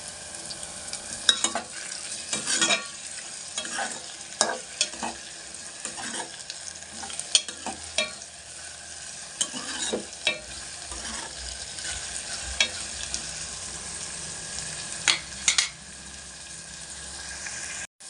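Tomato pieces fry with onions and green chillies in a pan for a spinach-tomato curry, with a soft steady sizzle broken by repeated scraping stirs of a spoon at irregular intervals.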